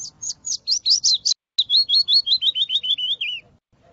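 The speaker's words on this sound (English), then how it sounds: "two songs from a willow warbler" Willow warbler song, two phrases in succession: clear, high, sweet descending trills of rapid notes, loud and close, with a short pause between the songs and no other voices.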